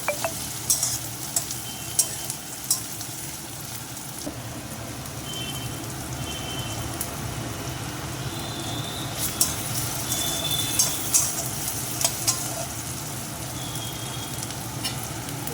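Chopped onion sizzles steadily in a hot pan while fish curry is being cooked, a constant close hiss broken by occasional clinks and scrapes of stirring.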